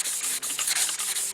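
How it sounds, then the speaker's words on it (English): A soft sponge block with 400-grit paper sands guide coat off a fiberglass panel in quick, close, back-and-forth strokes, a continuous hissing rub broken by brief dips at each change of direction. "you want to take it up here on your surface and just start sanding"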